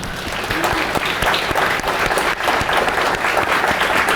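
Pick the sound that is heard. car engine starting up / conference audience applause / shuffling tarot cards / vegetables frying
conference audience applause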